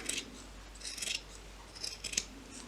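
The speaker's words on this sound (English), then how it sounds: "then cut so that you don't have too much extra fabric there" Scissors snipping through felt fabric while lining a crocheted or knitted iPad cover: several quiet, crisp cutting strokes in short bursts, close by and alone, against a soft background hiss.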